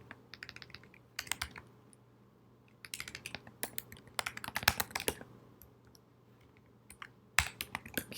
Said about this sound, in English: Keys are sticking.